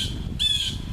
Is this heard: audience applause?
no